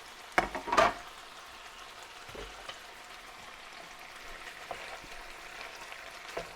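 A chicken stir fry with mushrooms, onions and pak choi stems sizzles quietly in a pan, with a couple of sharp clatters at the start and a soft crackle after.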